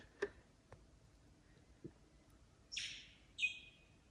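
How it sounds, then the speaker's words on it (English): In near silence, a couple of sharp bird chirps ring out in the distance, with faint ticks and clicks before them. "Occasional bird."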